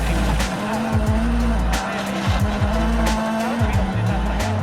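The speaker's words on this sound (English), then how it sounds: "he drifted wide and his Yaris plunged off the road, down a bank and into the trees." A Toyota Yaris rally car slides wide on a slippery downhill stage in Croatia, its engine loud and close with repeated rev changes and gear shifts, tyres scrabbling over the surface, and a voice briefly heard under the noise.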